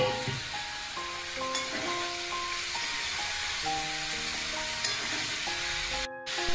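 Bottle gourd pieces hit a hot pan and sizzle loudly in a steady, dense hiss with some stirring scrapes, and light background music runs throughout.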